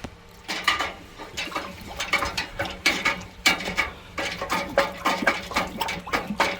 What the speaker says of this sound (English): I'm going to give it another little stir because I love the smell